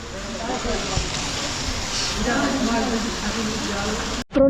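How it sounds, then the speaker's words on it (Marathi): Heavy rain pours in a dense, steady wash at a railway station in Darjeeling, with a person talking underneath and a brief cut near the end. "पाऊस एवढा येतोय"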